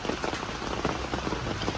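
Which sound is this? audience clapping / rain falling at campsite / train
rain falling at campsite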